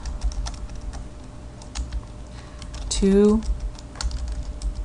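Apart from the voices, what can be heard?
typing on a computer keyboard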